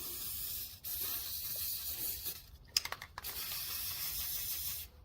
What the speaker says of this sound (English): I'm gonna spray some right here.